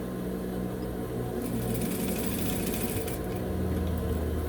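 A sewing machine running close by as it stitches elastic in place on a simple fabric bag holder, with a continuous mechanical whir and a brief faster burst in the middle.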